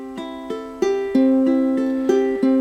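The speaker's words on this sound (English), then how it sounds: "a basic 4/4 pattern, what we call an arpeggio, where we break up the chord in its individual notes" Open ukulele strings fingerpicked one note at a time in a broken-chord arpeggio, steady plucks ringing over each other and speeding up slightly, close and clear with no talking.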